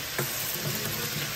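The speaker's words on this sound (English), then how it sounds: "So I'll just have to let it fry and then the fat will reduce." Chicken sizzles and fries in a pan, letting its fat render out, with a steady, close hiss and crackle throughout and no talking.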